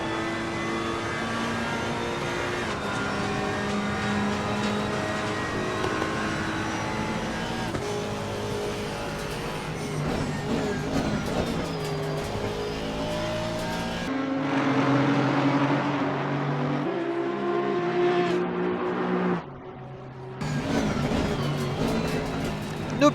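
Race car engines howl through a sim racing game, sustained high revs with gear changes and shifting pitch, passing traffic, and a brief drop near the end before the roar returns.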